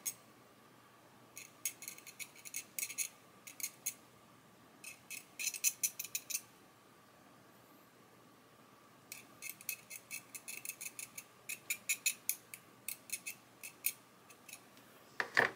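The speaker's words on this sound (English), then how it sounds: "just gently scrape over where the mould seam is" Short bursts of scraping, a knife blade rasping repeatedly across a plastic model chassis mould seam in quick strokes, close and quiet, with brief pauses between sets.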